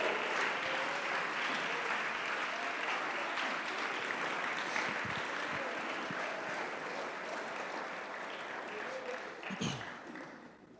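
A church congregation claps together in a steady, dense round of applause that fills the room, gradually easing toward the end, with scattered voices and a few louder knocks near the close.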